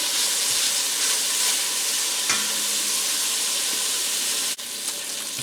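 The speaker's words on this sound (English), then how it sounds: "I'm going to add my meat, my short ribs to the pot and begin to brown those" Short ribs brown in a pot of rendered bacon fat, giving a steady close hissing sizzle with faint occasional clinks and a brief sharp knock near the end.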